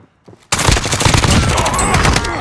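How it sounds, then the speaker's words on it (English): Dense, loud automatic gunfire in a Call of Duty match bursts in suddenly and keeps going as a continuous rattling barrage after a brief quiet moment with a faint voice. "Taking effective fire."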